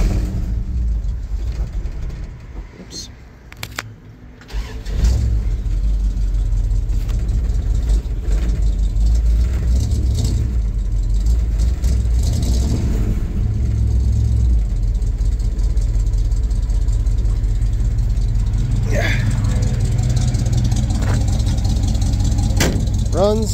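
An old project pickup truck runs with a steady low engine rumble and idle that continues close and loud for the whole stretch after a brief quieter start.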